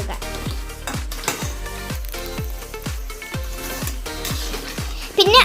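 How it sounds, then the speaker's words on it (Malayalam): A spoon stirs mint and coriander leaves through chicken biryani in a pot, making a steady series of close, regular scraping knocks against the metal, about two per second, with a brief louder clatter at the end. "പൊതിനയിലെയും മല്ലിയിലയും ഇട്ടിട്ടുണ്ട് എന്നിട്ട് അങ്ങ് നന്നായി ഒന്ന് ഇങ്ങനെ ഇളക്കി കൊടുക്കും"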